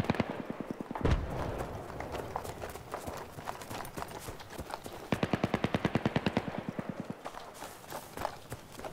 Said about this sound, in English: That sounds to me like a Russian MG, is it?